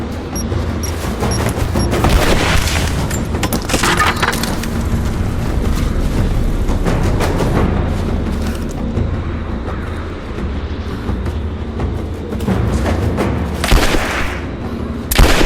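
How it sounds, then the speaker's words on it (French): Combat in Rise of the Tomb Raider: continuous dense gunfire with heavy booms and thuds from a grenade blast, loud and sustained with sharp bursts throughout. "Attention, grenade!"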